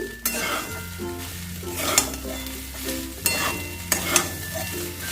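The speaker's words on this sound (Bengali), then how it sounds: "ভালো করে মিশিয়ে আমি দু মিনিট এইভাবে আমি একটু নাড়াচাড়া করে নেব" A spoon stirs chira pulao with vegetables in a pan over a medium flame. Sizzling frying runs under repeated sharp scrapes and clinks of the utensil against the pan, several in a loose rhythm, close and clear.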